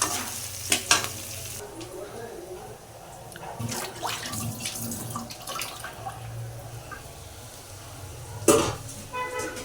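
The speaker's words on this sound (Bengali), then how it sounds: "এখন পেঁয়াজটা ভাজা হোক।" Onions frying in a pan, a steady low sizzle with stirring scrapes and a few sharp clatters of the spoon against the pan, continuous and close.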